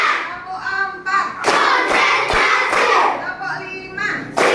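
A class of children in a classroom claps in rhythm, bursts of sharp claps landing between their chanted counting voices, lively and close.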